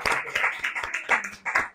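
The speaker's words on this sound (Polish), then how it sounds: "brawa dla nas wszystkich i dla Pana Pułkownika" Applause closes an author meeting with a lieutenant colonel, as a small group claps close by in loose, distinct hand-claps that come in an uneven rhythm for under two seconds.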